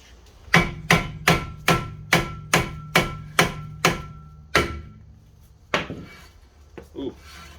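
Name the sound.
hammer tapping a 2002 Kia Optima brake rotor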